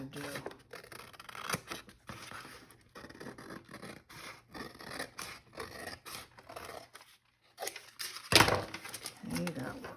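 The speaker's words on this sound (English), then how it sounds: "then I will trim right along there" Scissors trim paper from an upcycled junk mail envelope in repeated close, scratchy snips with short pauses, while birds coo faintly in the background.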